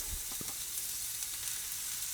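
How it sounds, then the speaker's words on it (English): Soft, continuous sizzle of meatballs frying in a pan with a few faint low knocks, like something shifting in the pan; no talking. "That sizzle is exactly what you want to hear."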